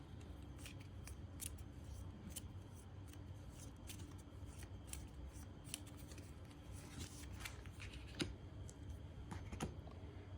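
Soft, quick riffling clicks of board game cards being shuffled come in short bursts over a quiet room, faint and close.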